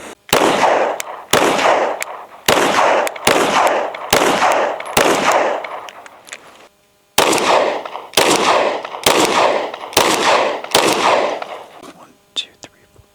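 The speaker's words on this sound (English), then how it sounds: "we just installed the compensator on the gun, and now we're going to do our first shots" Rapid strings of loud, sharp gunshots from a gun fitted with a Radian Ramjet compensator, roughly a dozen close, evenly spaced cracks split into two volleys by a brief pause.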